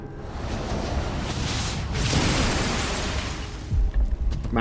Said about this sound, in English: Man, that was a big explosion.